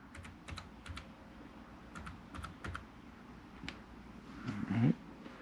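Someone types a Wi-Fi password on a keyboard inside an RV, with quiet, irregular keystrokes in short clusters and a louder thump near the end, close by and with no voices.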